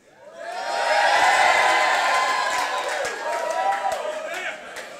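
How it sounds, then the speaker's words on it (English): A large Israeli audience in a hall cheers, whoops and claps, a dense sustained roar of crowd noise swelling early and then holding steady without letup. "the audience kind of does that, but it goes on and on and on, and then they just keep on clapping"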